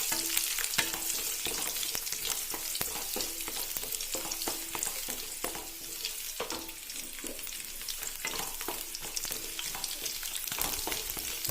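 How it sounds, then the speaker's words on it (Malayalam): Chopped garlic frying in a pan for a potato dish, a steady close sizzle punctuated by repeated scraping stirs of a spoon against the pan. "ഇനി ഇതിലേക്ക് നമുക്ക് വെളുത്തുള്ളി നിർത്തി വെച്ചത് ചേർത്ത് കൊടുക്കാം"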